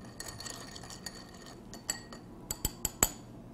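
Ice clinks and rattles against a mixing glass as a Dublin cocktail is stirred, light scattered taps building to a few sharper, louder clinks near the end, close and alone with no talking.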